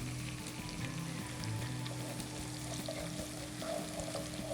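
Dried round chillies frying in hot oil, a steady soft sizzle with faint stirring scrapes throughout, no voices.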